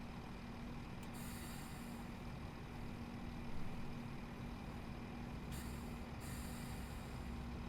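Train brakes in a train simulator game hiss steadily under a constant low engine rumble, with two brief higher bursts of air release, heard alone without talk.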